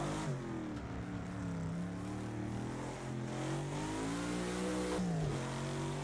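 A Lotus 40 race car in a PC racing game pulls away from a standing start at night, its mid-pitched engine droning and rising steadily through the revs, fairly quiet and continuous with no talk.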